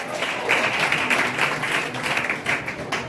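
A church congregation claps their hands together during a Sunday service, a continuous, fairly loud patter of many palms that holds steady throughout with no one speaking over it.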